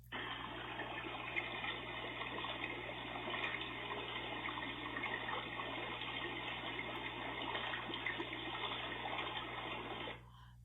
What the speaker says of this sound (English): Boiling water.